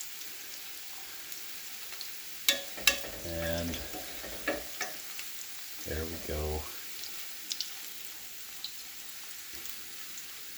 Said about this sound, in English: you can actually hear what the frying sounds like